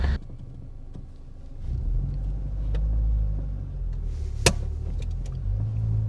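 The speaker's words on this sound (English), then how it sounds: "Wheel spin erzeugt im Twingo." Renault Twingo attempting a hill start, its engine rumbling steadily under load with a low drone that swells midway, then a sharp brief burst of tyre or mechanical noise near the end.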